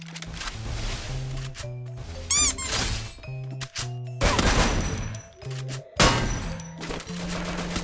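An M60 machine gun fires in the battle royale game Free Fire, with loud rapid bursts of shots separated by short pauses, mixed with squeaky interface sounds and in-game effects.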